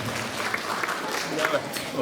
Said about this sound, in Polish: Duże brawa dla niej